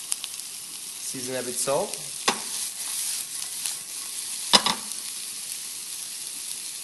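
Shallots and garlic sizzle in a hot pan, a soft steady frying hiss with a few sharp clinks and stirring scrapes, while someone speaks briefly over it.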